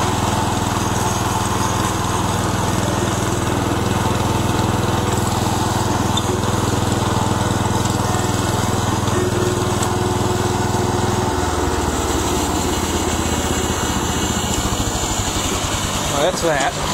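A John Deere 120 lawn tractor engine runs continuously up close, a loud steady drone whose pitch shifts partway through as the revs change.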